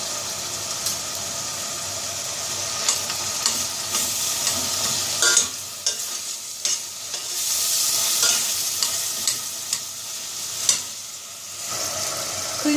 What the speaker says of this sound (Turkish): Soğanımız kavruluyor.